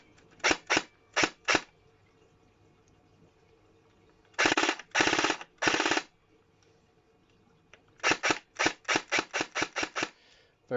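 Airsoft Thompson M1A1 firing full-auto bursts, loud and close, in several short groups of rapid sharp cracks separated by pauses, with a longer run of shots at the end and no talk.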